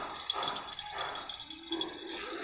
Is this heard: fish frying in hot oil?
yes